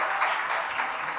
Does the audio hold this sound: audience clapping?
yes